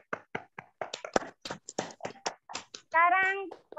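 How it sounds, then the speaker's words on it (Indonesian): Clapping from a classroom applauding group 1 breaks out as rapid, uneven hand claps from several people at close range, with a brief voice cutting in near the end. "Kasih aplaus untuk kelompok 1."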